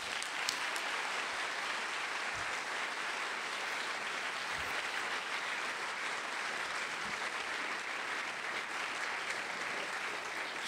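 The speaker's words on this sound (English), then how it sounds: "Please give Nicole a round of applause" A large audience applauds at a youth event talk, sustained dense clapping that holds steady and loud for the whole stretch with no speech over it.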